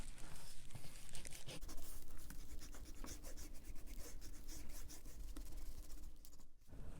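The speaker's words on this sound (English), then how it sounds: "we can erase that" Pencil marks rubbed off a dry watercolour card with an eraser, a close, continuous scratchy rubbing run of quick strokes that stops abruptly near the end.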